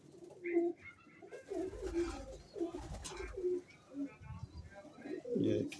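Old-breed pigeons coo repeatedly at close range in soft, throaty bursts, with a few brief rustles and faint background voices.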